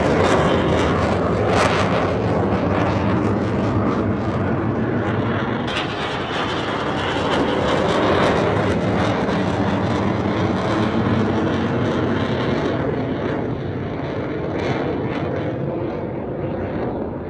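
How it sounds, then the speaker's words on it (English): F-18 fighter jets roar overhead near Virginia Beach, a loud, continuous, broadband engine rumble that stays strong throughout with slight swells, and no voices. "F-18s are pretty common in the Virginia Beach area, and those go up to around like 118 decibels"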